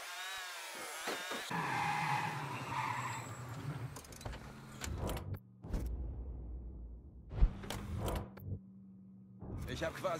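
In the game Mafia 3, a car pulls up with short bursts of tyre squeal and engine noise, broken by quiet gaps, while someone speaks German over the start.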